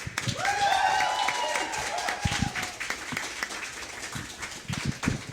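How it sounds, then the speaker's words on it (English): An audience at a musical theatre showcase claps for the band, a steady crowd applause overlaid at first with sustained musical tones, with sharp individual claps standing out as it gradually thins. "And a big round of applause for our amazing band"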